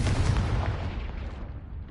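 A Confringo blasting spell bursts in Hogwarts Legacy with a loud, close boom, its rumble decaying over about two seconds, heard alone.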